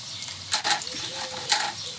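Chopped garlic and ginger dropped into hot oil for a sandwich filling, giving a brief bright sizzle with two louder surges of crackle as the pieces are stirred.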